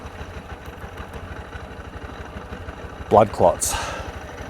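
Honda CB125F motorcycle engine idling with a quick, even low pulse running throughout at moderate level, while a person talks briefly near the end.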